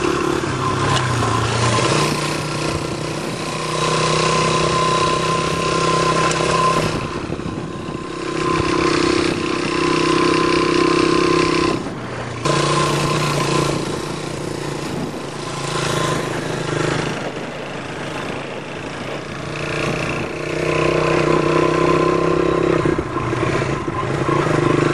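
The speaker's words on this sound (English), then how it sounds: "We're driving a motorcycle to go see the bees." A motorcycle engine drones steadily throughout, rising and falling in pitch as it rides along on a farm trip, with wind rush mixed into the continuous loud roar.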